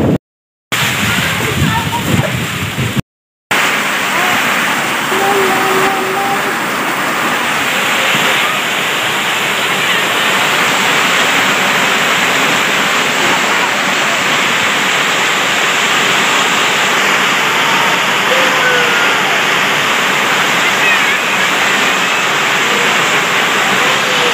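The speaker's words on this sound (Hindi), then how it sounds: "आज तूफ़ानी बारिश फिर से आ गई है उसी टाइम पे" A dense, constant roar of heavy stormy rain and rainwater draining away fills the scene, steady and loud, with a couple of brief cutouts near the start.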